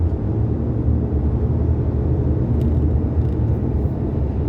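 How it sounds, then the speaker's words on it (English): Steady low rumble of several helicopters droning overhead, continuous and fairly loud with no voices. "A lot of helicopters."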